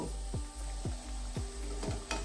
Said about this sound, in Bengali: ফ্রাই প্যানে তেল বসিয়ে দিয়েছি আর এবার পকোড়াগুলো ভেজে নিচ্ছি